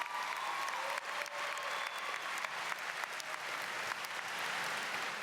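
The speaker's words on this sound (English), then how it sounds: "Can we give them a round of applause for looking so sharp today?" A crowd at a high school graduation ceremony claps steadily in a large venue, a continuous wash of hands at moderate distance with a few sharper individual claps standing out.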